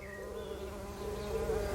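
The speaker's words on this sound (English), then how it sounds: "There's an early bumblebee buzzing around as well." An early bumblebee buzzes steadily close by in a rewilded garden, a low, even drone that swells slightly louder toward the end, heard alone without talking.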